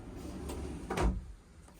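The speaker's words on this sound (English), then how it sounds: "you've also got 4 drawers" A wardrobe drawer in a 2025 Chausson 630 Etape Line motorhome slides and shuts, a single short, soft rumbling thud that stands alone in a quiet interior.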